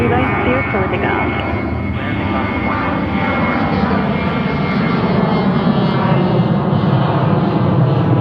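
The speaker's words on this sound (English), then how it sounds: "runway 13 right, clear for takeoff." An airliner takes off from a runway at JFK airport in New York. The jet engines give a loud, steady, unbroken roar that holds throughout.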